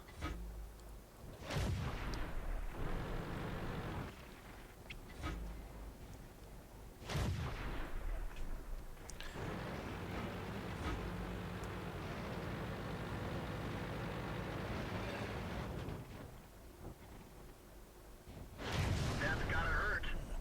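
Tank guns firing in World of Tanks, with several heavy booming shots spaced seconds apart over a steady engine rumble, while someone talks throughout.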